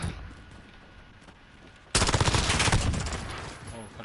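A machine gun in Call of Duty Modern Warfare opens up after a quiet lull, firing a sustained rapid automatic burst of close, loud shots that tails off slightly toward the end.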